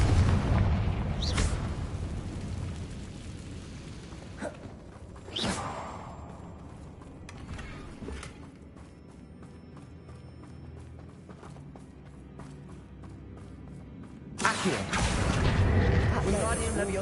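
Fiery spell explosions from a Hogwarts Legacy battle burst in heavy booms, one early and another near the middle, with a final loud blast near the end over rumbling game noise and spoken dialogue.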